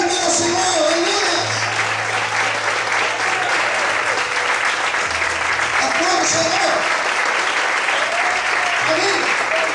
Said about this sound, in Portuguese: Quantos podem aplaudir e glorificar o Senhor?